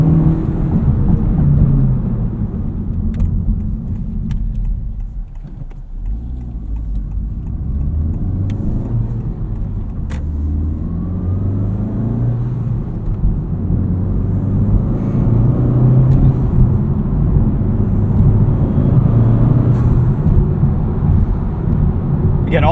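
A 2023 FL5 Honda Civic Type R fitted with a Cobb Redline carbon fiber intake, heard from inside while driving in comfort mode: a steady mid-range engine drone with tire and road rumble, rising and falling gently as the car moves.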